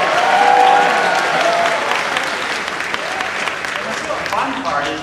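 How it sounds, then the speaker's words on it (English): A panel audience at a Star Wars Galactic Nights event claps loudly and steadily throughout, with some crowd cheering and a voice over the applause. "I'm so excited that I'm clapping."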